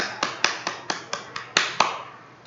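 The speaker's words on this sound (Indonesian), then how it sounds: "tepuk tangan anak-anak" Hand clapping in an online school class, about ten separate crisp claps at a slightly uneven pace, each ringing briefly in a small room, then fading out toward the end.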